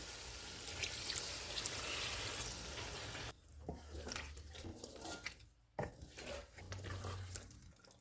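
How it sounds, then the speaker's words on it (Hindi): Half a cup of water is poured into dahi chicken frying in a pan on lowered heat. A steady loud sizzle cuts off, then comes a splash and sputtering, bubbling hiss, with no voices. "इसमें आधा कप पानी डालेंगे।"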